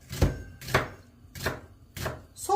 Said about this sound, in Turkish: soğanımızı yemeklik olacak şekilde doğrayalım